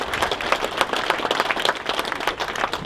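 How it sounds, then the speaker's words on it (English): An outdoor crowd claps for Mad Max actor Keith McConey at a 40th anniversary gathering in Clunes and Maryborough, a brisk, steady round of applause with scattered voices. "Give him a clap."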